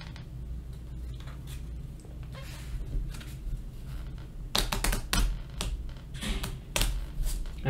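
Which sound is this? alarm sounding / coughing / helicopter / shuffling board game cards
shuffling board game cards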